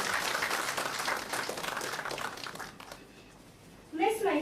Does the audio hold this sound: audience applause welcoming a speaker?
yes